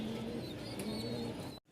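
Baghdadi racer pigeons coo in a low, steady murmur, close by and moderately loud, with a faint higher chirp, before the sound cuts off abruptly.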